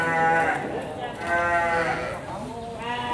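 Garut ewes bleating at the Majalaya sheep market, with several loud, wavering bleats close by and overlapping, under someone talking.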